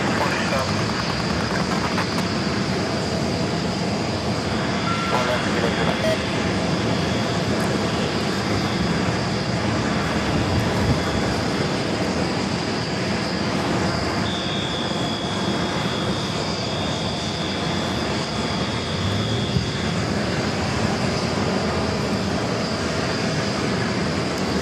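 A Delta Air Lines Boeing 757-200 departing JFK for Atlanta, its engines giving a broad, steady roar heard from a distance while people talk over it.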